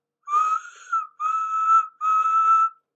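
Three shrill, harmonic whistle blasts from an animated little old steam engine sound in quick succession, each lasting under a second and the last held slightly longer, loud and clear with nothing else behind them.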